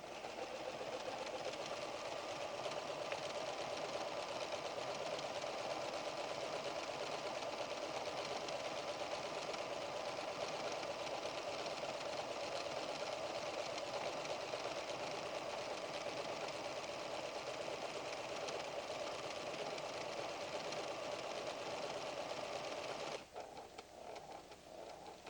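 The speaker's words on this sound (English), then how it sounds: "Now continue sewing until you reach the next corner." A PFAFF creative 7550 sewing machine stitches fabric in a long, steady, even whir with fine rapid needle rhythm, close and continuous, stopping abruptly near the end.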